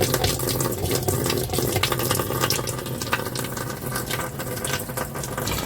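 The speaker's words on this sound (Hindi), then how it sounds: "ये पानी जो है इनलेट का वो आ रहा है, आप देख सकते हैं काफ़ी अच्छा फ्लो में आ रहा है" Water from the inlet pipe rushes steadily into a Realme TechLife washing machine, a dense continuous gushing fill, close and fairly loud, with no voices.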